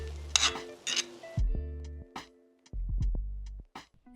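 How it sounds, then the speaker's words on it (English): Pork sisig with egg mixed on a hot sizzling plate gives brief bursts of hissing sizzle broken by metallic scrapes and clinks of a utensil against the plate, close and fairly quiet, with no talking. "mix it all together to cook the egg all the way through while the sizzling plate is still hot."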